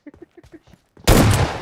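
Gunfire in the mobile battle game PUBG Mobile erupts as a sudden loud, sustained burst of shots right after a few seconds of quiet, murmured speech.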